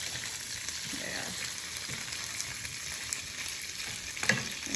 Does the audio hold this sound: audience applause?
no